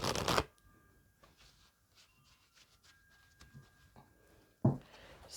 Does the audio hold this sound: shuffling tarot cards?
yes